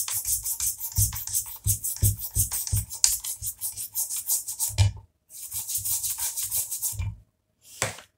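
A brush scrubs hard and fast against an AM6 engine crankcase while it is rinsed. The rhythmic rasping strokes run for about five seconds, pause briefly, resume, and end with one last short scrub.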